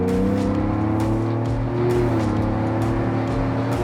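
A twin-turbo Ford Bronco engine pulls hard on a dirt road, a steady loud drone with rising harmonics as it accelerates, a brief dip and then climbing revs again, heard close with no talking.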